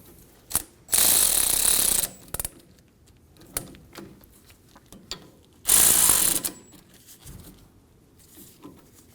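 A ratchet tightening brake hose bolts on a 2009-2014 Ford F-150 during a rear brake job, loud rapid clicking bursts twice with scattered clinks of tools and metal between, close up, no voices.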